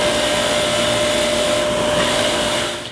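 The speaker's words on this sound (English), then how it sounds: "So I've got a wire wheel on this end, and I have a 36 grit stone wheel on this end." A bench grinder fitted with a wire wheel at one end and a 36-grit stone wheel at the other runs close by as a loud, steady whine with a constant tone and no pauses, fading at the very end.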